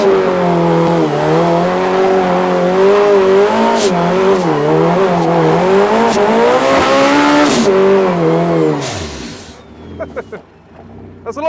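Car tyres squeal loudly and continuously as they heat up, a wavering high-pitched screech over engine revving lasting about nine seconds, then cutting off abruptly into quieter background sounds.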